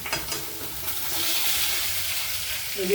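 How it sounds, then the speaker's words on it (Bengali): Pieces of shol (snakehead) fish fry in hot oil for an aloo shol macher dalna, giving a steady, fairly loud hiss and sizzle with a brief stirring scrape near the start and a faint voice at the end. "শোল মাছটা একটু ভালো করে ভাজতে হবে একটু লাল লাল করে ভাজতে হবে"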